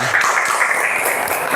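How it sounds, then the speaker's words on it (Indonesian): Classmates clapping for a student group at the front of an Islamic teacher-training classroom session, a steady patter of many hands heard near and moderately loud. "beri tepuk tangan untuk kelompok 2"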